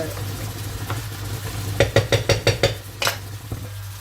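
Pasta with minced meat stirred in a cooking pot, a quick run of five or six rhythmic scraping knocks against the pot over a low sizzling hum, then one sharper clatter before quieter cooking noise.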